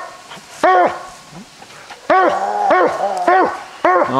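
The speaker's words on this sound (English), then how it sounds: "Get up there, Sarge. Right there's a coon" A hunting dog bays and barks at a raccoon up in a cedar tree outdoors, loud and close, in several separate bursts of drawn-out barks with short gaps between them.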